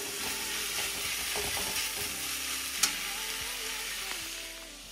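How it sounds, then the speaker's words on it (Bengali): Boiled, squeezed leafy greens fry in a pan, giving a steady, close crackling sizzle with light stirring scrapes and one sharp clink. "এই যে আমার এখানে শাক ভাজা চলছে একদিকে"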